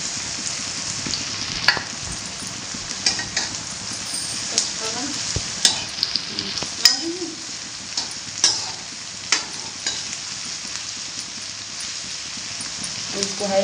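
Chole being stirred in a pan with two or three green chillies over a high flame, giving scattered scraping and clinking spoon strokes over a steady, soft sizzle, close and moderately loud.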